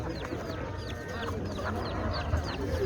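Chickens and roosters cluck in a busy stretch of repeated calls at a poultry market in Çubuk, Ankara, close and moderately loud over low market murmur.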